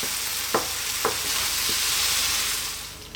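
Ingredients for a spicy Malvani chicken coconut curry sizzle in a pan under a constant frying hiss, with a few soft scraping strokes of a spoon as they are mixed, and no talk.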